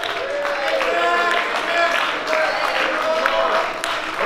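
Worshippers at a church service keep up loud, continuous cheering and applause in praise, a thick wash of voices and clapping that stays strong from start to finish.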